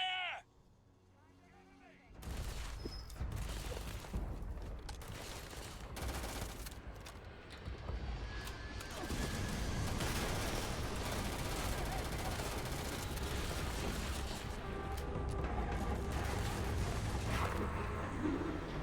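Sustained gunfire and explosive blasts from combat in the video game Starfield, starting abruptly after a quiet opening and continuing loud and dense throughout, with voices heard amid the firefight.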